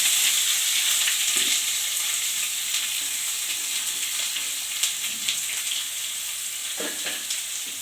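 Onions with mustard seeds and curry leaves fry in hot oil, giving a steady close sizzle with occasional soft taps and scrapes as they are stirred.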